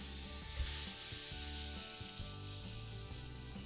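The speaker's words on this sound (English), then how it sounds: "So you should have your skillet nice and hot. And we are going to plop that breakfast sausage down in there." Breakfast sausage sizzles and crackles in a hot skillet, a steady close hiss with soft scraping, and no talking.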